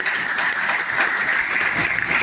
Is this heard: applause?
yes